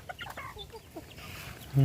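Chickens cluck softly and irregularly while being fed, a few close calls over farmyard background, ending in a sudden loud burst.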